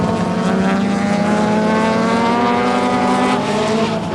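Sports sedan race cars, including a Mazda 929, scream past at Sandown raceway in 1988, a dense, loud, sustained engine roar with layered harmonic tones and no pauses.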